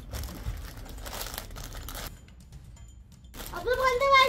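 A plastic bag is opened indoors with close crinkling and rustling that swells louder toward the end, while voices talk alongside.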